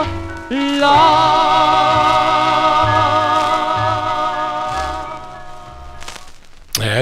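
A 1953 doo-wop single, a 45 on the Rainbow label, plays loud: sustained close vocal harmonies over a pulsing bass line, ending in a sharp click.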